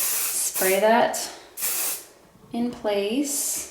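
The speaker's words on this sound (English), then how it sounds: "I'm going to take a little bit of hairspray, spray that" Hairspray misted onto a braided bridal bun in two short hissing bursts, with someone talking in between and over them.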